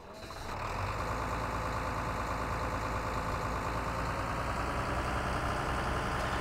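A tractor engine idles steadily in the farming video game Farming Simulator 2013, a loud, continuous low rumble that swells up in the first second and then holds constant with no voices.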